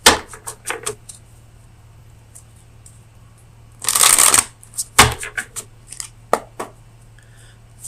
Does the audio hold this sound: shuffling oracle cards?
yes